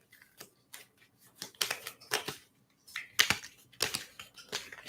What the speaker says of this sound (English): Let me try and shuffle these real quick.